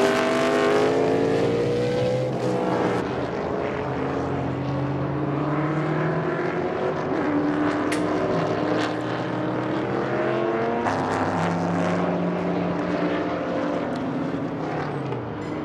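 Race cars, including a Dodge Viper, roar down a short back straight in a group race, with several loud engines rising and falling in pitch as they pass one after another.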